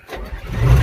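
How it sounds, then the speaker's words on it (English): A Komatsu D41S-3 dozer with a freshly rebuilt engine cranks and catches, its low diesel rumble building and steadying into a loud, close, rough idle over about a second. "Fires right up."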